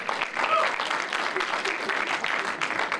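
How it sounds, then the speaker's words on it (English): An audience gives a round of applause at a military gathering, loud, dense clapping from a crowd with some voices mixed in underneath. "Round of applause."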